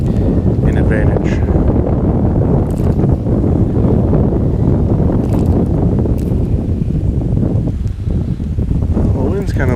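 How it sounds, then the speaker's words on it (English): Strong wind blows across the microphone while someone is out fishing on the water, a loud, continuous roaring rush with gusty swells that fills the whole stretch. "the wind's kind of blowing me towards this tree over here"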